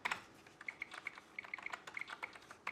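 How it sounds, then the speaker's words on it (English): Quick, irregular keystrokes clatter on a German computer keyboard, soft and close, with light clicks and occasional louder key hits and no talking. "the keyboard is set to English, and it's a German keyboard, so the characters are sometimes on other places"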